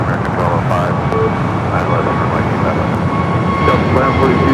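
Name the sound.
Boeing 747 passenger jet at LAX airport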